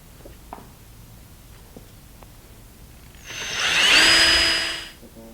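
A power drill bores an 1/8 inch hole through a thin-wall aluminum gate post in one whining burst of about two seconds, rising and then stopping, after a few quiet taps and handling knocks.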